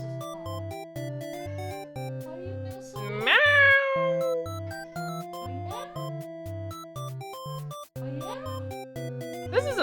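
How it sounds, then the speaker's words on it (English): A cat named Harvey gives a few drawn-out meows, one loud and near, over a steady repeating electronic music track with chiming tones. "He does this, but like he's right next to me with the meowing."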